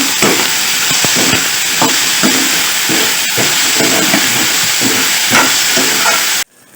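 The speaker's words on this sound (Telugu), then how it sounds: "ఉల్లిపాయలు తొందరగా వేగడం కోసం హాఫ్ టీ స్పూన్ సాల్ట్ వేసి ఫ్రై చేయండి" Onions fry with salt in a pan, giving a loud, close, constant sizzle with rhythmic stirring scrapes. It cuts off abruptly near the end.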